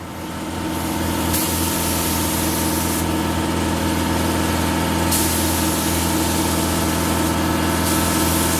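A steady hiss of a paint spray gun painting car parts for a 2009 Toyota Yaris runs in long continuous passes with brief pauses, over a constant low hum of a compressor.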